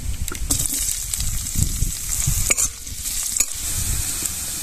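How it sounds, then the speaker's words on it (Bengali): Chopped onions fry in a small amount of oil, sizzling loudly up close while a utensil stirs and scrapes them in bursts, with brief clinks against the pan. "পেঁয়াজ ভাজা হয়ে গেছে"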